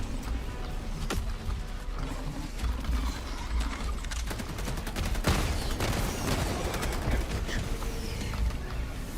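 Autocannon fire in the Helldivers 2 shooter game comes as rapid heavy shots over constant battle noise, with sharp reports scattered through a dense, loud combat din.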